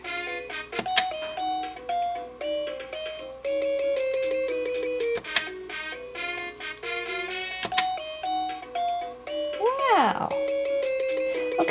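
Dora the Explorer toy telephone play-set plays a bright, repeating electronic tune of synthesized bell-like notes, close and loud, with a few sharp clicks of buttons and a brief spoken exclamation over it.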